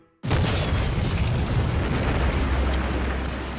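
A delayed explosion blast in a railroad tunnel under construction, a sudden loud boom that erupts after a brief silence and then sustains as a heavy, roaring rumble to the end.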